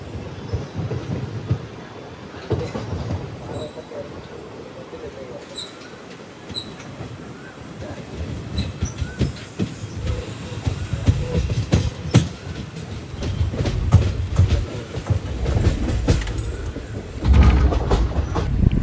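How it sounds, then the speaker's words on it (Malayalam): A passenger train on the Kollam–Nagercoil line via Trivandrum rumbles along the rails at close range, with a steady low roar, clicking wheel joints and rattling carriages that swell louder toward the end, with no talk. "ഇത് എല്ലായിടത്തും നിർത്തി നിർത്തി പോകാത്ത ടൈപ്പ് ഒരു പാസഞ്ചർ ട്രെയിൻ കൂടാണ്"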